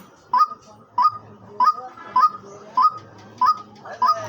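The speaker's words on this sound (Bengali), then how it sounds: "দেখেন পাখিটা কি সুন্দর ডাকতেছে" A white-breasted waterhen kept as a hunting decoy calls in loud, close, evenly spaced honking notes, seven in a row about every half second.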